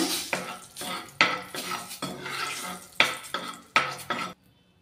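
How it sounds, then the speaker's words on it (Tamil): A utensil stirs and scrapes through ingredients in a cooking pan over medium heat, making five or six rhythmic clattering strokes with a soft sizzle beneath, close and moderately quiet. "சேர்த்துட்டு ஒரு தடவை நல்லா கலந்து விட்டுக்கோங்க"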